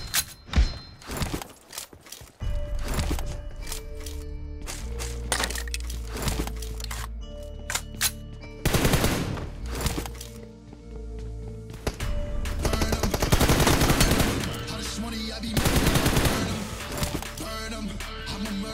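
M416 rifle fire in a PUBG team deathmatch, bursts of rapid cracking shots and thuds mixed with music and game effects, loud and dense throughout with several quieter gaps.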